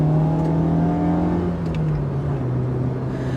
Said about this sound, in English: The car actually drives really straight.